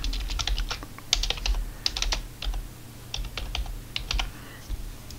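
Rapid typing on a computer keyboard, close and steady, with irregular bursts of key clicks and short pauses and no talking.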